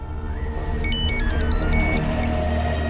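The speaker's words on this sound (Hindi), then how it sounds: "sir, phone" A telephone ringtone goes off during a police interrogation in a crime drama, a bright electronic melody repeating steadily for about a second over a low background hum.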